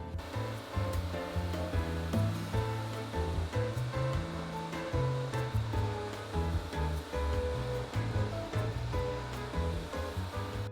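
Two wet vacuum mops, a Bissell Crosswave and a Bissell Symphony, run together, cleaning a mess from a bath. They make a dense, continuous whirring drone with watery slurping noise, loud and unbroken, and no voices.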